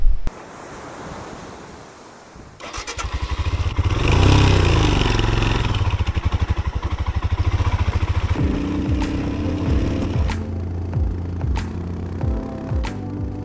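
A Royal Enfield motorcycle rides along a coastal road in Tasmania, its engine note rising into a close, steady throb under heavy wind buffeting, with a few sharp clanks toward the end.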